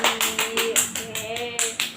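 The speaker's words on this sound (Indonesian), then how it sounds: "Oke, makasih Mbak Tuti, tepuk tangan." A small classroom group applauds with a short burst of brisk, close hand clapping in uneven rhythm, lasting about two seconds.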